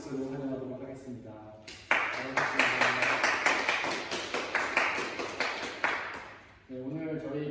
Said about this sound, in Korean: 우리 옆에 있는 분들을 박수로 환영하도록 하겠습니다